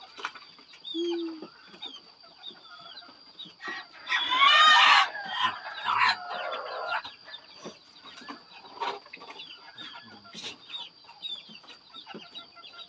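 Bantam chickens cluck softly while they are fed in the early morning. A brief, busier flurry of clucking comes in the middle, and a steady faint background whine runs throughout.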